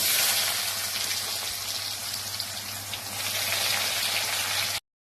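Onions fry in hot oil for a tilapia curry, crackling and sizzling densely like rain, close and loud, steady for nearly five seconds before cutting off abruptly, with no speech.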